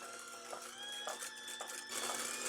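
An electric mixer whipping heavy cream with vanilla toward medium-stiff peaks, a steady faint motor whine with a slight rise in intensity near the end.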